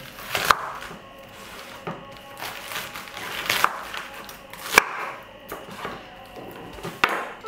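Sharp knife chops through red cabbage on a cutting board at an irregular, unhurried pace, a handful of crisp taps spread over several seconds.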